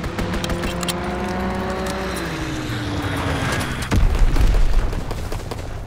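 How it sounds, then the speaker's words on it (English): An Azon bomb drops in Call of Duty WW2, with a falling tone over ongoing battle noise, then a heavy, close, rumbling explosion near the end. "Dropping Azon bomb."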